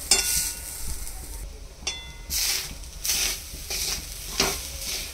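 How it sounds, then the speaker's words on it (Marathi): Grated coconut dry-roasts in a pan over medium heat for ukadiche modak, with repeated spatula stirring strokes scraping and hissing in close, rhythmic bursts. "खोबरं छान भाजत आलं आहे।"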